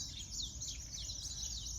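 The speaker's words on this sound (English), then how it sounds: "These little birds up on the wires there that you can hear, they're new Holland Honeyeaters." New Holland Honeyeaters calling from overhead wires, a continuous stream of thin, high chirps and twittering, faint and somewhat distant over a low background rumble, with no talk.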